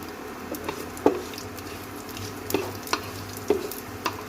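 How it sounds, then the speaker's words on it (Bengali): Dried red chilli, bay leaf and nigella seeds tempering in hot mustard oil: a soft steady sizzle with a few sharp pops and light clicks of a spoon against the pan, close and moderate in level. "এতে দিয়ে দেবো শুকনো লঙ্কা, তেজপাতা, কালো জিরে ফোড়ন।"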